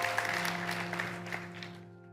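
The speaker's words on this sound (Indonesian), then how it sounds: "Tepuk tangan bagi Tuhan." A church congregation applauds during a sermon, a dense burst of clapping that fades out over about two seconds while a sustained musical tone hums underneath.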